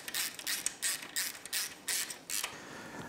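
Ratchet snugging the upper head mount bolts on a Yamaha YFZ450R quad during a top end rebuild, heard as a series of short, bright ratcheting bursts in a quick uneven rhythm, close and fairly quiet with no talking.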